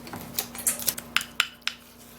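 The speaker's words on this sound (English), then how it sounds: "Then we're just going to be mixing and stirring all of the wonderful ingredients together." Spoon clinks and scrapes against a container in a short run of sharp taps while ingredients are stirred together, close and fairly quiet with no talk.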